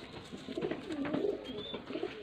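A pigeon coos softly up close in a low, rolling murmur, with faint background noise and no talking.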